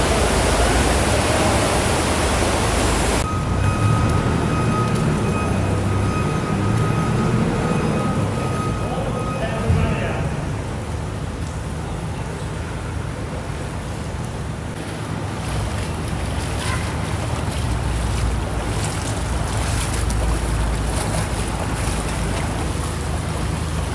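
Floodwater rushing through a neighbourhood in Osmaniye after a heavy downpour, a continuous loud broadband roar of flowing water that holds steady throughout, with faint intermittent sounds on top.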